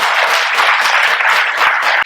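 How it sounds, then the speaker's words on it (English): Audience applause for three panelists at the close of a Bhutan Dialogues panel session: dense, steady clapping from a crowd, loud and continuous throughout with no speech. "A round of applause for them"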